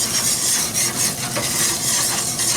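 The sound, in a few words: oil sizzling on Pit Boss griddle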